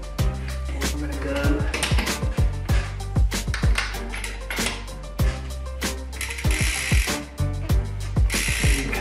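Socket wrench ratcheting while tightening on a 2018 Santa Cruz 5010 v2.1 AL mountain bike wheel: rapid, loud clicking in repeated bursts near the mic, with brief pauses between strokes.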